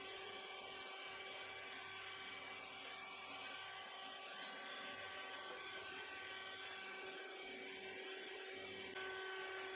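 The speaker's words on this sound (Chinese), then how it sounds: "继续1档搅打" An electric mixer on its lowest speed whips egg batter with sugar in a constant, close whirring hum with a steady tone and no pauses.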